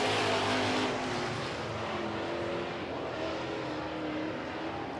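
Super Trucks racing around a track in a heat, a loud, steady roar of several engines, with one truck rushing past close by near the start before the sound settles into a sustained, slightly more distant drone.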